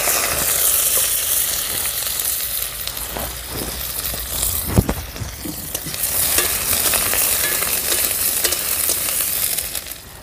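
Potatoes hitting hot mustard oil in a wok make a loud, continuous crackling sizzle, with a brief stirring scrape in the middle before the frying noise fills in again.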